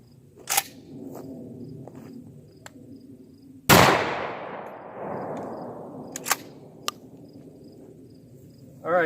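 A 12 gauge shotgun firing 00 lead buckshot into plywood: one loud, close blast with a long decaying echo, set among fainter clicks and handling noises.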